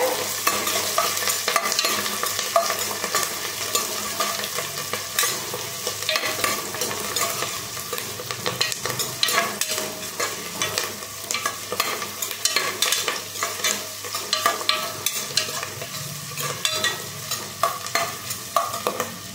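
Onions, green chillies, curry leaves and mint fry in hot oil for a mutton paya curry, giving a loud, continuous close sizzle broken by repeated scraping stirs.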